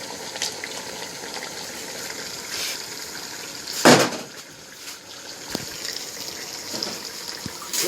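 Steady rushing water runs from a tap throughout, with a brief louder splash partway through and a few faint knocks.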